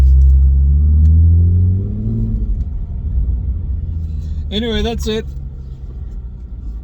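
A 2016 Ford Mustang V6 with a Beluga axle-back exhaust and EX-F02 muffler, heard from inside the cabin, gives a deep rumble that fades to a low idle as someone speaks.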